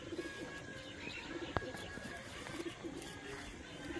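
Pigeons in a loft give soft, repeated low coos in short bursts, close by, over a steady murmur of background noise.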